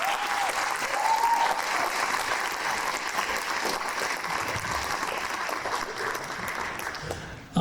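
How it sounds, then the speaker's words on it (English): Concert audience applause for school music students: a dense, steady wash of clapping from a crowd, with a brief cheer near the start, holding level before ending abruptly. "So one more round of applause for our students in our 2nd and 8th periods."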